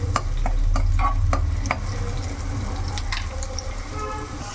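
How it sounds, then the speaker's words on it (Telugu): A sprig of curry leaves frying in hot oil in a pan for brinjal curry, a steady sizzle with a few sharp crackles and stirring clicks early on, then a softer, even hiss. "ఇవి ఫ్రై అవుతున్నాయి కదా."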